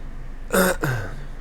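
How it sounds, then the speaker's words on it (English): A single short, rough throat clearing, close and fairly loud, followed by quiet. "trying to clear my throat"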